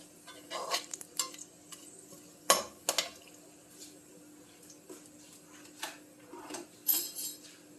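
Fennel seeds sauté in oil while a spoon stirs and scrapes the pan, giving soft intermittent clinks and scrapes over a faint background sizzle, fairly quiet overall.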